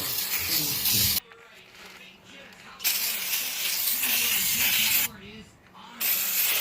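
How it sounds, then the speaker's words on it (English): Aerosol spray of brake cleaner onto the front and back of a 2008 Cadillac Escalade EXT brake rotor in loud hissing bursts, with two pauses between sprays and a voice talking faintly in the gaps. "you're going to spray some brake clean on the front and back of the rotor"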